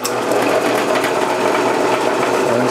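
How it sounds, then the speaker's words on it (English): A drill press motor hums steadily with a high whine, running continuously at close range, with no pauses or talking. "We'll come over here to my drill press and turn on the light."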